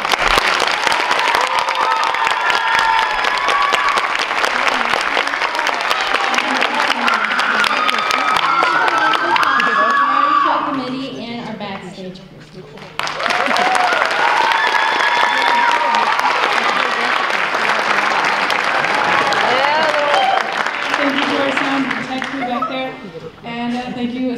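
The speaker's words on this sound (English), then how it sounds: "Let's have a round of applause." An outdoor variety show audience breaks into sustained applause and cheering, loud dense clapping that dips briefly in the middle before swelling again, with voices mixed in.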